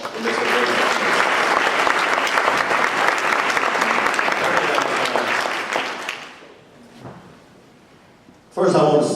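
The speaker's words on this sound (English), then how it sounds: "Can we give a little round of applause for Mr. McKinney?" Audience applause at a livable communities summit panel, a full, steady round of clapping from a large crowd lasting several seconds before dying away into near quiet, followed by a speaker's voice.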